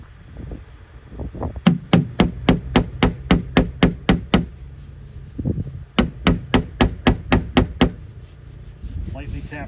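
A hammer taps a 2011 Chevy Malibu body panel in two quick rhythmic runs of sharp, evenly spaced strikes, with a brief pause between and softer knocks around them.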